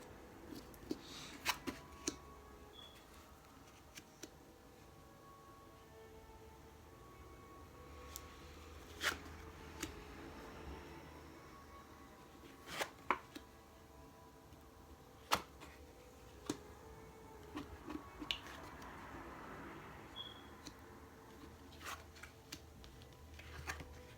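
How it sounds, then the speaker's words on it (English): Tarot cards are flipped over quietly in a hushed room, sharp papery snaps and soft slides sounding every few seconds against faint background hiss. "I'm going to flip over the cards. I'm going to do it quietly"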